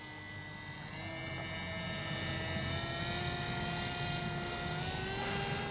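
A HobbyZone AeroScout RC trainer plane flies with its electric motor and propeller maxed out, giving a steady whine with rising harmonic tones that stays at an even loudness throughout.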